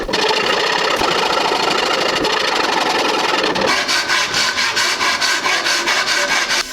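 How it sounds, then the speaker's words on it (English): A half-round file rasps against black locust wood while a homemade recurve bow is shaped, first as a continuous scraping, then as loud, evenly rhythmic back-and-forth strokes, close up with no talk. "Just using a 1/2 round file."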